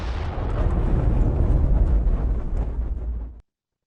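A string of rumbling explosions plays from a video, forming a dense, continuous roar of blasts for over three seconds before it cuts off abruptly.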